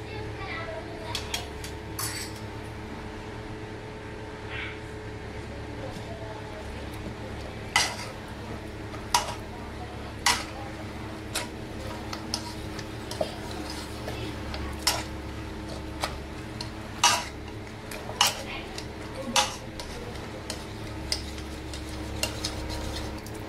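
Cooked pav bhaji vegetables being mashed in a pan, with a steady series of sharp metallic knocks and scrapes of the masher against the pan over a constant background hum, while children can be heard faintly in the background.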